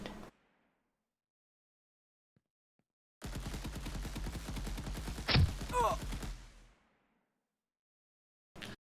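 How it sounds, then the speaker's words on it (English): Rapid automatic weapon fire from an Unreal Engine 5 top-down shooter game rattles out in a dense burst of about three seconds, loud and close, with a heavier thump midway and a short separate shot at each end. "here let me equip a weapon. Just shooting."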